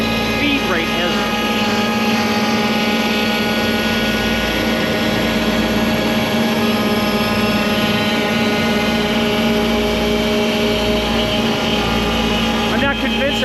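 CNC machine cutting 6061 aluminum, a loud continuous drone with steady tonal whine and spindle hum throughout, with no clear break in the cutting.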